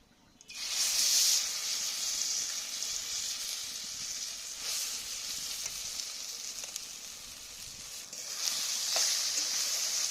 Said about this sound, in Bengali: ডাল আর লাউয়ের যে মিশ্রণটা, এটাকে আমি এর মধ্যে কড়াইয়ের মধ্যে দিয়ে দিলাম।